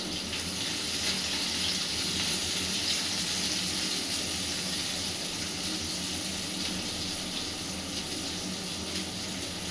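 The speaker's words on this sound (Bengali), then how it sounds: "মিশনিটা চালাচ্ছি, একটু তো আওয়াজ আসবে" A kitchen mixer grinder runs continuously, grinding ingredients that include green chillies, with a steady, loud, broadband rushing whir that holds level for the whole stretch and has no talk over it.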